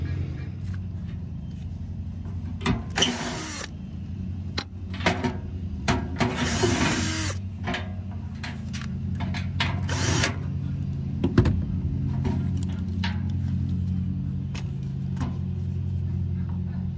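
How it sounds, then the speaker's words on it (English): Hand tools working on the screws of a car's blower motor housing, with intermittent clicks and short bursts of ratcheting or driver whir separated by pauses, close by over a steady low background hum. "I'll go and get those screws off the bottom so it can plop out dramatically"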